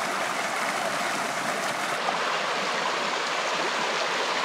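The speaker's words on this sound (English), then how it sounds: "Yeah, it's just a pretty small stream." Small South Twin River stream in the Nevada backcountry, a steady close broadband rush of flowing water that runs unbroken, with no voices.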